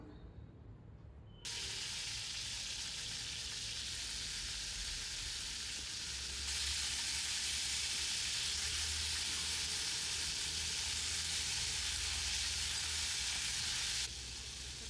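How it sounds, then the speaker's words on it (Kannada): Tomatoes sizzle and fry in a hot pan for a kadai paneer dish, a steady hiss that jumps louder a moment in and swells further midway, continuing without talk. "ಟೊಮೆಟೊನ ಹುರ್ಕೋಬೇಕು"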